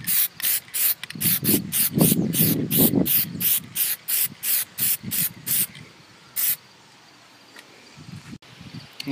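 Plasti Dip sprayed onto a Nissan Titan truck badge from an aerosol can comes as a quick run of about a dozen sharp, evenly spaced hissing bursts, loud and close, then a pause and one or two last puffs.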